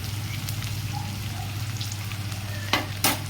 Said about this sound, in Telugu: మనం వేసిన ఆనియన్స్ అనేవి గోల్డెన్ బ్రౌన్ కలర్ వచ్చేంత వరకు కూడా వేగనివ్వాలి సో వన్ మినిట్ పాటు ఫ్రై చేసుకుందాము